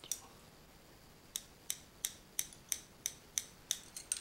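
Scissors snip hair for a layered bob, about ten crisp, close, evenly spaced cuts in quick succession against a quiet room.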